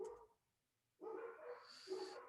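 Dogs barking outside at a distance, a couple of short faint barks and yips separated by a brief quiet gap.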